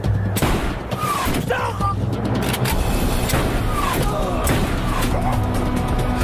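Gunfire crackles through a busy action-film battle scene set in a desert chase, dense bursts layered over vehicle rumble and shouting voices, loud and continuous.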